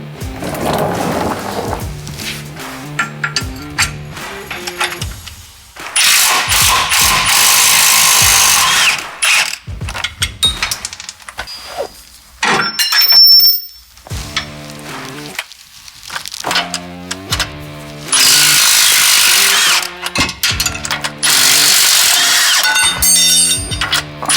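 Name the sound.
ratchet and power tools removing truck shock brackets and U-bolts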